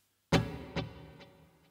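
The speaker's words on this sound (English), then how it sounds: "So the delay sounds like this." Single electric guitar hit with eighth-note delay, reverb and light drive from a JHS Morning Glory pedal, the strike followed by three fading repeats at a steady interval, heard alone.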